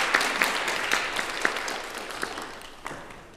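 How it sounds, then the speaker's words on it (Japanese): Concert audience clapping for traditional Japanese music performers on koto, shakuhachi and shamisen, a full round of applause that starts strong and gradually thins and fades, with a few sharp individual claps standing out. "今一度演奏者に盛大な拍手をお願いいたします。"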